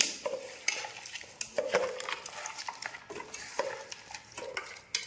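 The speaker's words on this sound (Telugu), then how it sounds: "ఇవన్నీ వేసుకుని ఒకసారి బాగా అన్నిటిని బాగా కలుపుకోవాలి" A spoon stirs and scrapes through mutton biryani ingredients in a metal pot, with irregular clinks and scraping strokes repeating close up, fairly quiet and with no voices.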